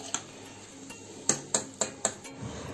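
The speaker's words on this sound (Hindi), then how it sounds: "इनको करारा करके मैं कलछी से इसमें से निकाल रही हूँ।" A metal ladle clinks against a pan while lifting deep-fried small desi chickpeas for chana jor garam: four or five sharp metallic knocks in a loose rhythm, close and fairly loud over faint kitchen background.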